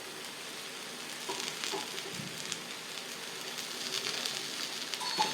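Wheat adai flatbread made from ration wheat fries on a hot pan, giving a steady, soft sizzle with light crackling that runs without a break, close by and fairly quiet.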